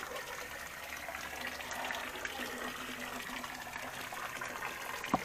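Water runs freely from a pipe buried in the ground beside rice fields in Victoria, Oriental Mindoro, a faint continuous gushing flow with a small knock near the end.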